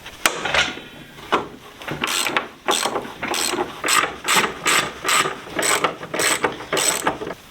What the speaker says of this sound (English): So now with the jack supporting the bottom of the subframe, we can remove those top 5 nuts.